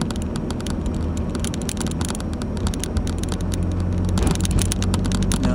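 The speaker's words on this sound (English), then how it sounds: "here's a train pulling into the station now" CTA Red Line train pulling into a station, a loud continuous rumble and clatter of wheels with rapid rhythmic rattling that grows slightly louder as it arrives.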